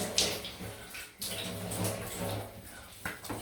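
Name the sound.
water splash while rinsing after shaving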